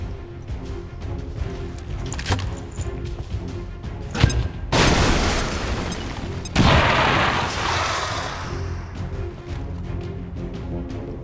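Grenade explosion in XCOM 2, a few scattered clicks and a sharp crack lead into a loud booming blast followed by a second roaring burst that slowly fades into rumbling debris.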